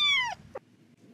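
Several cats meowing at a door, one loud drawn-out meow with a falling pitch followed by a short second meow, close by and alone, then quiet room tone.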